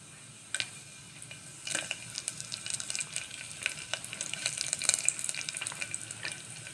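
Bay leaf and cumin seeds fry in hot oil in a pan, crackling and spitting in irregular bursts that grow busier after a quieter start, close and moderately loud, with no talking.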